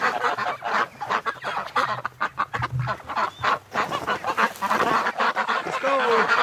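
Ducks honking and quacking in a busy, overlapping chorus, close by and fairly loud throughout.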